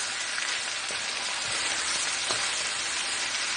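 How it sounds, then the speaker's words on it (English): Oxtails fry in a pot over medium heat with a steady, dense sizzle and a few faint pops, close and continuous with no talking. "I'm just going to allow them to fry until they catch some color on both sides"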